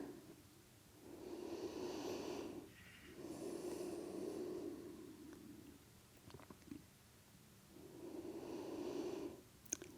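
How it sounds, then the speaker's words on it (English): Slow, deep breathing during a seated yoga stretch, with three long audible exhalations spaced several seconds apart and quiet pauses between them, close to the microphone. "Nice deep breaths."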